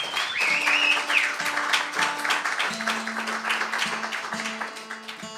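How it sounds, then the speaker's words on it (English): Audience applause at a small music gathering at Áras Uí Chonghaile, a steady crowd patter of clapping with a whistle early on and sustained tones from an instrument underneath. "Big round of applause for all that."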